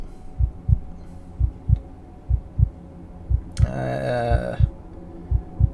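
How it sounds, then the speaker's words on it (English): A heartbeat audio cue in the video game Cataclysm pulses in steady low double thumps, loud and repeating, with a brief rising droning tone partway through. "The heartbeat sound is caused by"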